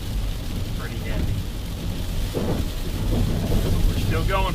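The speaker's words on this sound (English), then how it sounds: "It's been raining pretty much all day." Heavy rain falls steadily during an early-March hammock overnighter, a dense hiss with low rumbling underneath, and muffled voices come through faintly over it.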